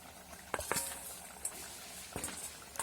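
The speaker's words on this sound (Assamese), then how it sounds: "এতিয়া একদম এইখিনি উতলিব" Egg curry liquid simmering in a pan, a faint, steady background of small bubbling pops and soft patters, a few sharper plops standing out.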